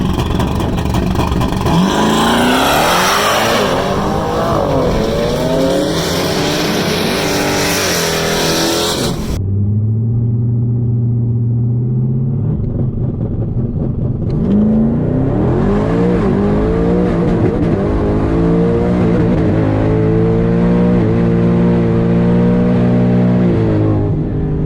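A race car runs on 93 octane without methanol and holds a two-step launch limiter at a loud, stuttering rev. It then launches hard and accelerates through rising engine pitch until the first shift. The engine rises again through a second gear, close and alone.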